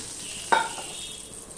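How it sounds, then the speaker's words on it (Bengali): Oil poured into a hot pan for batter breakfast snacks gives one sharp sizzling hiss that quickly fades into a soft steady crackle, close and alone without talk. "প্যানটা গরম হয়ে গেলে আমি তেল দিয়ে দিলাম।"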